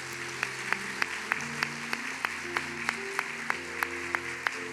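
A church congregation claps together at a steady pace, with sharp regular hand claps standing out over a sustained organ or keyboard chord progression, moderately loud and continuous.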